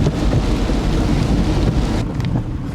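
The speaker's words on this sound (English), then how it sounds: "It's super rainy today" Heavy rain on a rainy day, a dense steady roar with low rumbling like thunder, loud and continuous with no talk.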